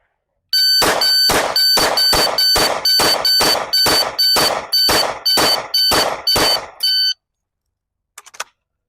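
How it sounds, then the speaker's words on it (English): A rapid series of about a dozen loud, evenly spaced electronic shot timer beeps during pistol drills, shrill and close, then a few faint sharp pops after a short pause. "have my partner randomly press the button on the timer and create those"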